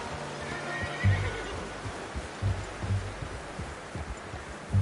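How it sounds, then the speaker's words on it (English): A horse in Red Dead Redemption 2 gives a breathy neigh near the start, followed by a few sparse, soft hoof thuds and low rustling, with no talk. "How's that new horse?"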